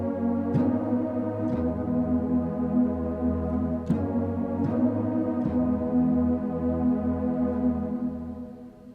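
A soft keyboard pad in a regular octave, limited to the bottom half, plays the verse of a worship song, sustaining warm chords with gentle note changes and a few brighter attacks.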